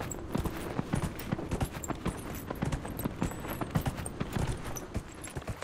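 Galla mount in Dragon Age: Inquisition galloping, a fast continuous patter of hoofbeats on ground with dense irregular thuds, fairly close and steady, no voices over it.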